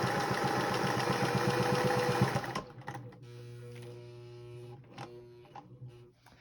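A sewing machine stitches binding onto a quilted star table topper in a dense, steady whir for about two and a half seconds, then stops, leaving quiet hum and faint handling noises.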